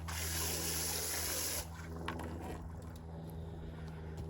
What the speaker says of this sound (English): I was just kind of stirring it up to get it mixed up.